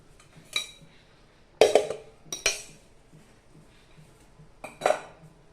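A metal pot for melting jaggery is handled in a quiet kitchen, with a few separate clanks and clatters of cookware spaced out over several seconds.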